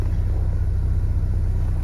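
A Mazda RX7 FC rotary engine idles steadily at about 800 RPM on its first cold start, a close, constant low rumble with an even pulsing throb and no voices.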